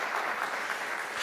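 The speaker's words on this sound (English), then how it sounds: "Please give them another round of applause." A brief, steady patter of audience applause after a panel discussion, a crowd clapping together at an even level.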